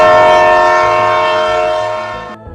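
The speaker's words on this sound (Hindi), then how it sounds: "ट्रेन का सिग्नल मिलते ही हॉर्न बजा" A train horn sounds one long, loud, steady blast as the train pulls away from a station platform, then cuts off abruptly near the end, leaving a faint rumble.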